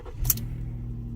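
A 2013 Ford Police Interceptor engine catches with a brief burst of cranking, then settles into a steady, close idle hum with no one talking.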